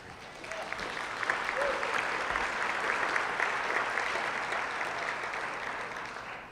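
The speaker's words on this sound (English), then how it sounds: "So can we give Wayne Perot and his team a round of applause" Audience applause at a sponsored lunch event for a cruise line, steady and dense clapping from a sizable crowd that holds at an even level throughout, with no talk over it.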